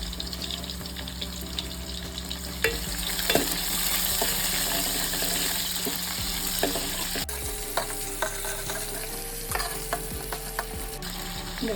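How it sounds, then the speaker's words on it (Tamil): Onions and curry leaves sauté in a pan with a continuous sizzle, broken by scraping stirs and clinks of a spoon, plus a brief trickle of running water from a tap partway through. "இந்த வெங்காயம் கொஞ்சம் நல்லா வதங்கணும்."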